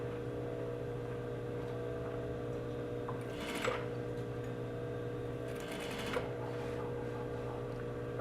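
A sewing machine edge stitches a pocket on a Western-style garment, a faint continuous motor whir with a couple of brief louder bursts of fabric handling in the middle.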